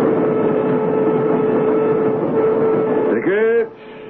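Radio-drama effect of a commuter train running: a steady rumbling roll of rail noise at close range, ending in a brief rising-and-falling horn or whistle blast near the end.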